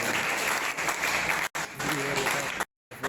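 A church congregation claps and cheers in a dense, sustained burst of applause, loud and close, with voices mixed in, briefly cut off near the end.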